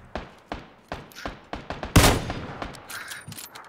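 Gunfire in PUBG: a burst of about eight sharp shots at a steady rhythm, followed by one louder close blast and a dense tail of further rapid shots with scattered impacts.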